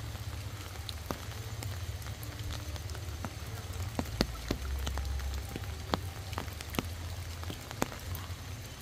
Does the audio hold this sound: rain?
yes